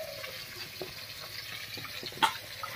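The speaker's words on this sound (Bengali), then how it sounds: "মাছটা ভাজা হতে থাক" Snakehead (shol) fish fries in a pan, giving a soft, steady sizzle with a faint clink partway through.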